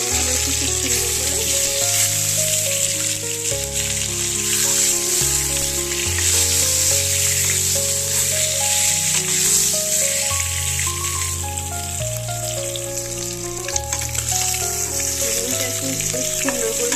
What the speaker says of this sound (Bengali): এবার আমি ডিমগুলো দিয়ে ভাজা করে নেবো একটু খুব সুন্দর করে